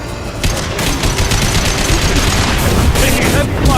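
Heavy gunfire in the video game Mass Effect 2, a loud, dense stream of rapid weapon shots rattling continuously through the whole stretch.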